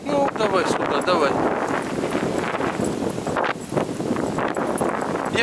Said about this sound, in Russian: Такой ветер дикий.